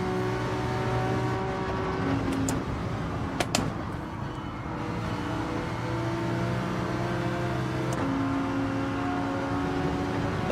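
A Honda NSX race car engine in Gran Turismo 7 drones steadily through the whole stretch, shifting pitch with a few brief knocks and clicks over a busy, continuous racing backdrop.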